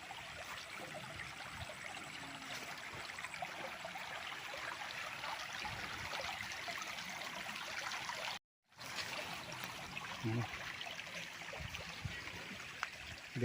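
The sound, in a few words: flowing stream water on farm lot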